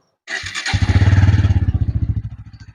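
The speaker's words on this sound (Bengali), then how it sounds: "বাইকে যদি স্টার্ট করি সাউন্ড কন্ডিশনের জন্য" A 2023 Bajaj Pulsar N160 motorcycle with about 10,900 km on it cranks and fires up loudly nearby, then settles into a rhythmic thumping idle whose pulses soften and slow over a few seconds.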